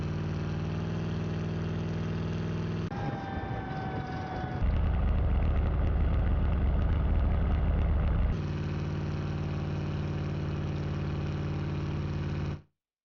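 Engine noise from a car in an indie vehicle combat game with destructible environments, a steady mid-toned drone that shifts pitch as the vehicle is switched or revved, loud and continuous, then cutting off abruptly at the end with no speech.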